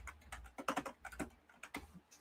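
Quick, irregular bursts of typing on a computer keyboard, with close, faint key clicks and clacks in short clusters and no speech.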